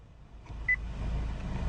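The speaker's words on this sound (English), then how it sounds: "After the beep, please say a command" A single short, clean electronic beep from the voice command system of a 2014 Acura TSX Sport Wagon, heard over a steady low cabin hum.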